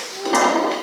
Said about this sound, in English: I'm just going to flip this again so we are sure